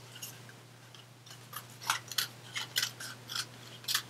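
Scissors snip through card paper in a series of short, crisp cuts, irregular at first and then quicker, close and fairly quiet with no talk.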